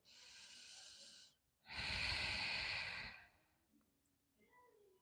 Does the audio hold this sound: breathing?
yes